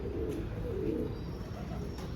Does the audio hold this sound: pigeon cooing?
yes